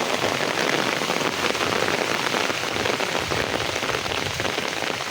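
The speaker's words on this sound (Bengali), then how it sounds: "3 দিন এক টানা বৃষ্টি।" Heavy rain pours steadily onto an eggplant field after three days of nonstop downpour, a dense, continuous hiss of drops striking leaves and wet ground with no pauses and no voices.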